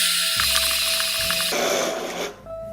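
A Vitamix blender grinds peanuts into peanut butter, a loud steady motorized roar with a grinding rattle that shifts in tone partway through and then dips briefly near the end, with no talking.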